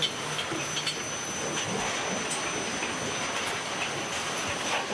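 Heated steel bars run along an automated forging line in a factory, giving a steady, loud mechanical rumble and hiss with faint rattling, continuous throughout and without speech.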